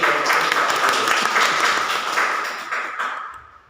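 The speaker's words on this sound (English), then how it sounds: "A big round of applause to the speaker." A Toastmasters club audience gives a speaker a round of applause, a steady wash of clapping from a small room crowd that gradually thins and fades out.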